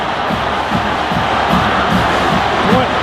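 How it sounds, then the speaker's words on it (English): A stadium crowd at a college football game between USC and Missouri roars in a dense, continuous wash of cheering and shouting, loud and sustained, with voices calling out within the mass of noise. "Listen to this crowd."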